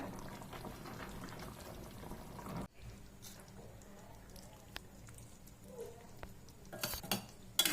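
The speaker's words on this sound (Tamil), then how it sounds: "அதில் ஒரு டென் மினிட்ஸ் போட்டு கொதிக்கட்டும் குழம்பு" A pot of vegetarian fish-style curry bubbles and simmers softly and steadily on a low flame, with a few light clinks of utensils toward the end.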